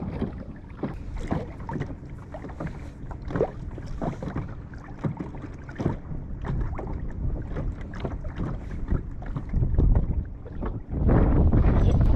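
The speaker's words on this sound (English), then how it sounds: "This wind has been murder," Strong wind buffeting the microphone while fishing from a small boat on a shallow lake, a loud continuous low roar with gusty bursts and light water slaps, growing heavier near the end.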